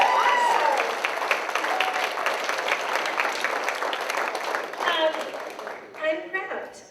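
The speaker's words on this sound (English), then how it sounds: "clap for her" Audience applause for a newly promoted district manager at a gathering, a steady wash of clapping across most of the clip, easing toward the end as voices speak over it.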